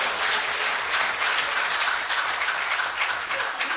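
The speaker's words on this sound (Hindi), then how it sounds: "तो एक बार जोरदार तालियां" Loud, sustained applause from an audience at an all-India poetry gathering, a dense steady clatter of many hands running unbroken from start to finish.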